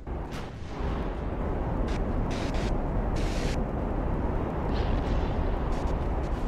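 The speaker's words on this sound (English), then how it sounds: "we just took our first two torpedo hits" Torpedo hits explode against a warship in Ultimate Admiral: Dreadnoughts, a 1942 Battle of Savo Island naval battle, in a loud sustained rumbling blast with a few sharper cracks layered over it.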